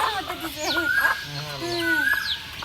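Domestic chickens clucking and crooning near a rural home, a series of rising and falling warbled calls at close range, with a person talking softly alongside.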